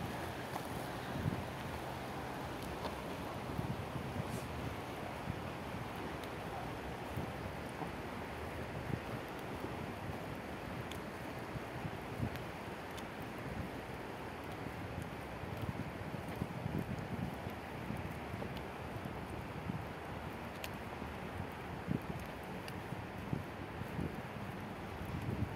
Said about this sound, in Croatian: Evo da samo na sekundicu čujete žubor vode.